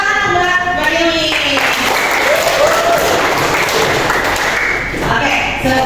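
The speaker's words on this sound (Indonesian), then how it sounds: "Tepuk tangan Mbak Yuni" Classroom group applause for a participant during a lesson on halal and haram, a dense burst of clapping filling the room, steady and fairly loud, with some voices mixed in.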